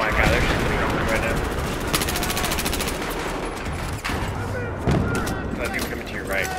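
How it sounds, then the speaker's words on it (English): Video-game enemy gunfire: sustained, dense bursts of rapid automatic shots, loud and close, rattling almost without pause over heavy battle noise. "Oh my god, they're shooting me right now."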